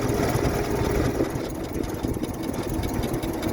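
A 1925 Ford Model T engine running at idle, a dense low rumbling chug with rapid uneven knocking pulses, close and steady throughout.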